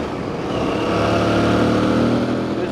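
An Aprilia Tuareg 660 motorcycle engine droning steadily in fifth gear while riding, a close, continuous hum with wind noise and no break.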